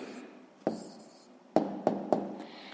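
A pen writes out the answer to a sixth-grade math equation by hand, giving a few sharp scratches and taps spaced over a quiet background.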